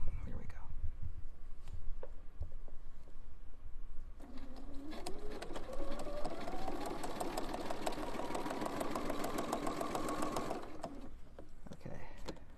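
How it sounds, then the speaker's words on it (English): A Bernina sewing machine fitted with a couching foot runs steadily through free-motion stitching for several seconds, its motor hum rising and holding, loud and close, after a brief quiet start with soft background noise. "So let me put my foot down. Let me put my needle down. And find my foot pedal."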